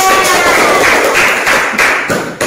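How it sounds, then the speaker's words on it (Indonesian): A group of students receives applause in a classroom, a loud, dense burst of close clapping that fills the short moment and fades at the end. "Aplaus untuk kelompok 3."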